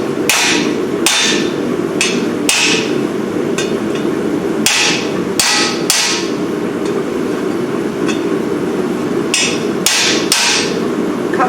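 A blacksmith hammers hot iron while forging, landing about a dozen sharp, ringing blows in irregular bursts and pairs over a steady background hum, close and loud with no talk.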